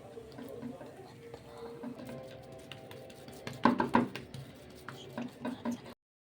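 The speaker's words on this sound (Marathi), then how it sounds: "ओल्या हाताने आपल्याला थालीपीठ असं थापून घ्यायचं आहे" Wet hands pat thalipeeth dough flat on a damp cloth, giving soft repeated slaps and pats in uneven bursts, a cluster of louder ones in the middle, close and fairly quiet.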